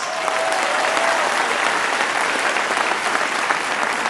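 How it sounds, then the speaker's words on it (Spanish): An audience at a political rally in Pahuatlán, Puebla, Mexico claps loudly and continuously, a dense, steady wash of applause throughout. "Un aplauso para los migrantes."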